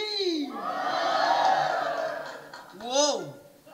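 Live Filipino battle rap crowd shouting and cheering in rising whoops and yells, loud and close, with a second sharp burst of hollering near the end.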